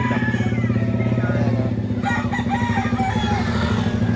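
Roosters crow and cluck at a busy chicken market in Batangas, with several overlapping calls over a constant low engine-like hum and crowd noise, loud and continuous throughout.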